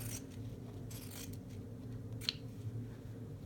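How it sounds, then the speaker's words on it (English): Scissors cut through a hemmed fabric scrap in close, quiet snips and a soft scraping slide of the blades, with a sharper snip near the end. "I will go ahead and cut that hemmed part off as well."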